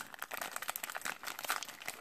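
Close plastic bag crinkling while a collectible figure is unboxed, soft irregular rustles and crackles continuing throughout at low volume with no talk.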